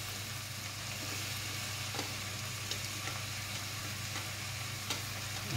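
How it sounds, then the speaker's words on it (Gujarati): Chopped onions sautéing in a pan, giving a faint, steady sizzle over a low hum, with a few soft clicks from the utensil. "હવે ડુંગળી આપણી એકદમ સતળાઈ ગઈ છે"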